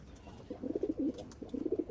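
Soft low pigeon coos in two short bursts, close by and fairly quiet, with faint background hiss.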